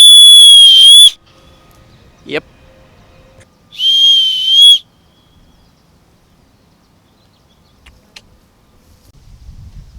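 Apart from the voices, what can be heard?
survival whistle being blown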